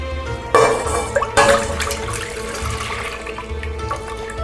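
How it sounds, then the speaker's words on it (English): Whole milk poured into a cooking pan in a kitchen, a close liquid splash starting abruptly then settling into a steady gurgling stream, with no talking. "we have to put 4 cups of whole milk in your pan"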